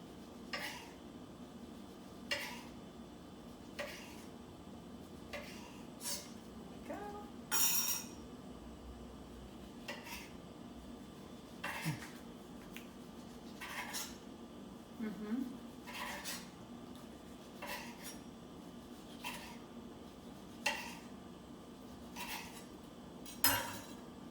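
A knife slices ripe tomatoes very thin on a cutting board, faint regular taps of the blade striking the board every second or so over a quiet kitchen background.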